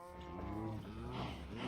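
A cow in the Minecraft video game gives one long, low, steady moo, heard alone and fairly quiet.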